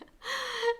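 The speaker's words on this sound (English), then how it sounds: "Now I know you can hear my dog snoring." A dog asleep in a dog bed beside a desk gives a single snorting, rasping snore, close and moderately loud, lasting under a second after a brief quiet start.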